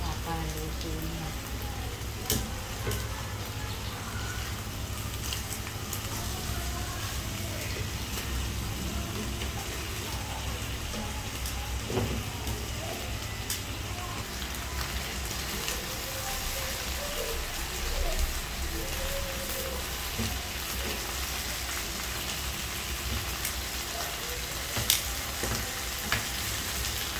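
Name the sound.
chicken inasal frying in a pan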